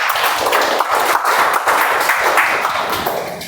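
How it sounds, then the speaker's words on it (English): Applause at a club meeting, many hands clapping together in a steady, dense round that carries on throughout and slightly tapers toward the end. "So a huge round of applause for Vanita as well."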